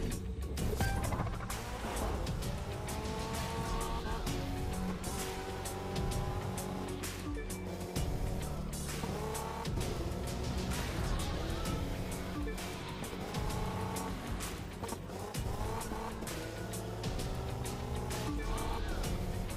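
A touring car in The Crew 2 runs along the Pacific Coast Highway, its engine droning steadily with rising and falling gear pitch and occasional tire squeal, mixed under a continuous music bed.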